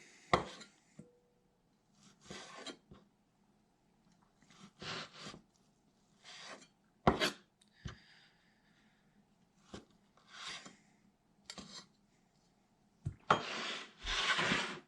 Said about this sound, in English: I'm just going to finish slicing this up